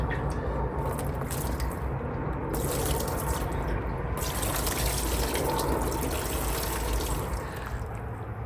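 Liquid is drawn out of the fuel tank of a 1972 Kawasaki H1-B 500 motorcycle after a rust-removal soak, a steady close gurgling, slurping wash of fluid lasting throughout without speech.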